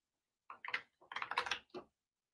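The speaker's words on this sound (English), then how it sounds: "Use my typewriter here." Someone typing on a keyboard close by: two quiet bursts of rapid keystrokes separated by a short pause.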